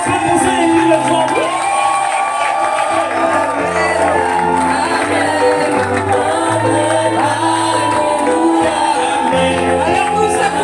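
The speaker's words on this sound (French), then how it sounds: "Est-ce qu'on peut pousser les cris de joie?" A church congregation at a baptism ceremony erupts in loud, sustained cheering, with whoops and joyful shouts from many voices overlapping in a continuous celebratory roar.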